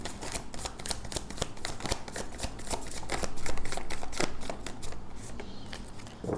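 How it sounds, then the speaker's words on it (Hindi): Tarot cards are shuffled by hand close up, producing a dense, continuous run of crisp riffling clicks and flaps that keeps a steady pace throughout, with no talking. "हमेशा की तरह मैं एक ही शफल करूँगी"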